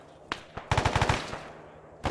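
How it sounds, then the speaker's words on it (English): Gunfire in the video game ARMA 3: a single shot, then a rapid burst of about eight rounds, followed by another lone shot, moderately loud and slightly distant. "More gunshots west."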